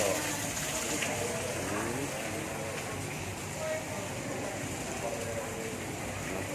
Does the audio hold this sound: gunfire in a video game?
no